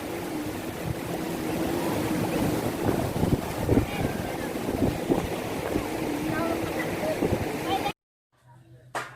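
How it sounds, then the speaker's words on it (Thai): Strong wind buffets the microphone at Jomtien Beach, a loud continuous roar with surf and a voice faintly underneath, cutting off abruptly near the end. "ลมแรงมาก"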